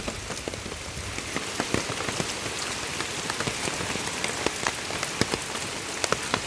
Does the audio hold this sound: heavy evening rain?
yes